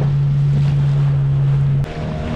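Sea waves and wind rush past a boat out at sea off Goa, a loud continuous wash with buffeting wind and a steady low engine hum underneath that drops away near the end.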